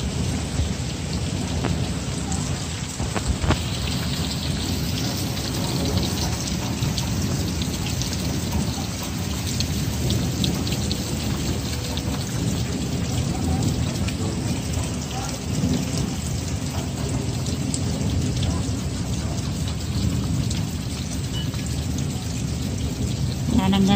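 Heavy, steady rain pours down continuously with a dense wash of drops, and low rumbles of thunder roll underneath throughout.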